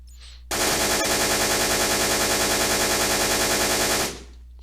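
MG42 machine gun firing in a Minecraft WWII mod, one loud unbroken burst of very rapid automatic fire lasting about three and a half seconds, alone and close, then cut off sharply.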